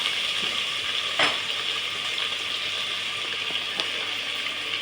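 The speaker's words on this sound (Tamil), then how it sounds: "தக்காளி வதங்கட்டும்" Chopped tomatoes sautéing in a pan for sambar, a steady even sizzle with occasional soft stirring scrapes, close and uninterrupted, no voices.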